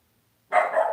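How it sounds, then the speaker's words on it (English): One sharp, loud bark from a tiny dog breaks a short silence, close by and clear, followed by a brief ragged tail. "She's a tiny dog, but seriously loud."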